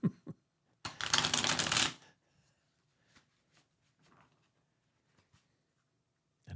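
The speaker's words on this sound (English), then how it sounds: "I'm still shuffling the cards. You cannot shuffle tarot cards too much." Tarot cards are shuffled in one dense riffling burst of about a second, close and crisp, followed by a few soft taps and card handling sounds in a quiet room.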